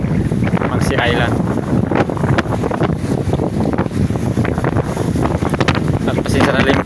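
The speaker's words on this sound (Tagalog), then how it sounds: "tapos malakas pa yung hangin, may kasama pang ulan" Strong northeast monsoon wind with rain buffets an island coast on Mangsi Island, a loud, steady roar of gusts across the microphone with a faint voice underneath.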